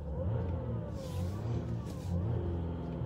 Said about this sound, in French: On entend déjà assez bien le moteur.